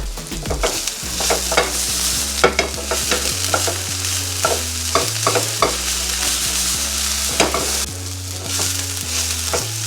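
Onions fry in a pan while being stirred, with a continuous loud sizzle and repeated scraping stirs close by and no talking.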